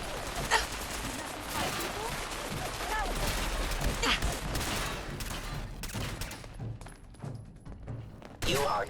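Shooting video game gunfire, with dense rapid bursts of shots and heavy thuds packed together, loud and near, then thinning to scattered cracks before one last burst.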